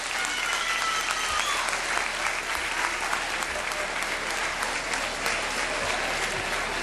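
Steady, loud applause from a festival audience, dense clapping sustained throughout with no pauses.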